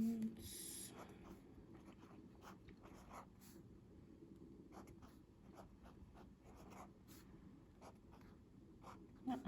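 Marker or pen writing steadily on a board while working out a line plot fraction problem, with a continuous scratchy stroke texture across the whole stretch, fairly close and soft, broken by small pauses between strokes.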